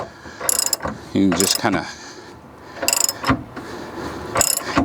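A ratchet wrench clicks in short bursts while snugging the bolts on an Andersen Ultimate fifth wheel hitch, the quick ratcheting strokes close and repeated between pauses, with a voice briefly talking over part of it.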